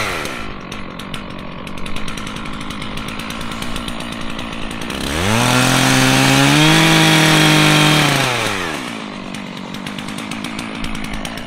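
A chainsaw runs steadily, idling with a buzzing drone before revving up loud for a few seconds in the middle and then dropping back to idle, heard close with no talk.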